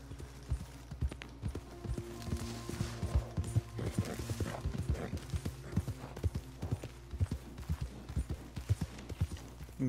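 Horse hooves clip-clop steadily at a walking rhythm in the video game Red Dead Redemption 2, a dense run of thudding steps heard over a low ambient hum.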